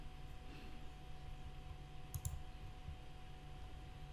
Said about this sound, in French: Je vais cliquer dessus.